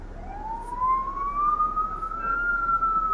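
A police car siren wails on a Jamaican road, one long rising tone that climbs and then holds high, loud and close, with faint traffic rumble beneath and no talk.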